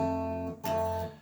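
The 6th and 3rd guitar strings plucked together ring out, then are plucked again about halfway through, clear and close with no talking.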